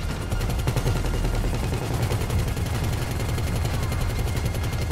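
Rapid automatic gunfire rattles in Grand Theft Auto V, a dense, continuous stream of close, loud shots sustained throughout without talk.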